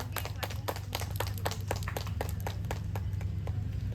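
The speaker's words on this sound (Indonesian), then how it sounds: "Boleh tepuk tangannya lagi" Audience clapping at an art exhibition opening: distinct, fairly faint claps in a loose rhythm over a steady low hum, a small crowd applauding for several seconds.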